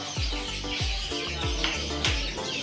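Ornamental chickens, including serama, at a bird market kiosk where pigeons are also sold, with repeated clucks and calls in a steady rhythm over busy, close background noise.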